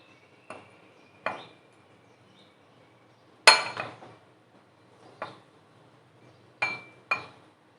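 A spoon scraping and clinking against a bowl as Maharashtrian coconut rice (narali bhat) is served out, giving several separate bright metallic taps and scrapes spaced a second or more apart, close and fairly quiet with no speech.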